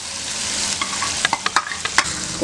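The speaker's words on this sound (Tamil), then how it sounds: "லேசாக கொஞ்சமாக மட்டும் கிளறி விட்டுட்டு கொஞ்சம் ஸ்டவ்வை ஸ்லோ பண்ணிடலாம்" Beaten egg stirred in a hot pan for egg rice, a steady close sizzle broken by several sharp scraping clicks of a spatula toward the end.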